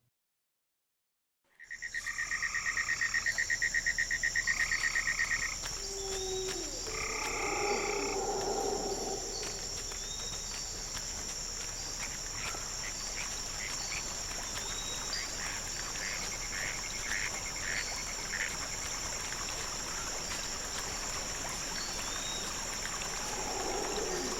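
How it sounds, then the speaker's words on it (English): Outdoor nature ambience with croaking frogs and a steady high insect buzz over a soft continuous wash, some calls near, others distant. "resting on top of a looped nature ambience from my field recording ventures"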